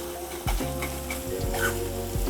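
Onion fries in oil for an egg curry, a soft close sizzle under a few low knocks from stirring, brief and without speech.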